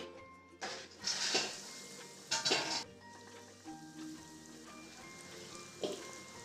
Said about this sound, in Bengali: এবার আমি গরম তেলে ছেড়ে দিলে এটা ভাজা হয়ে যাবে